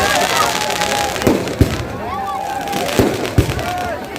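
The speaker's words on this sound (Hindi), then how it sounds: "ये पटाखे और आतिशबाजी बंद कर दें, इससे डिस्टर्ब होता है" Firecrackers and fireworks going off near a political rally crowd at Bunkar Lawns, with several sharp loud bangs at irregular intervals over a continuous background of voices and crowd noise.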